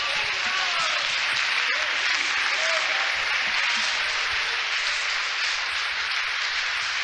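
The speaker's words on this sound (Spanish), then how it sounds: "Un aplauso al Señor." A church congregation applauds during a sermon, a dense, steady wash of clapping that holds loud and even for the whole stretch without a break.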